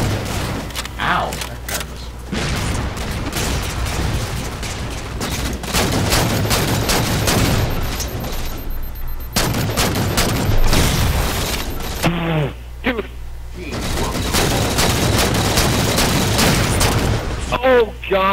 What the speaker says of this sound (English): God, everything just blew up around me.